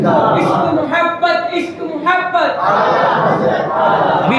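At a mosque celebration, a crowd chants slogans in unison in response to a call, producing loud, close, rhythmic bursts of many voices.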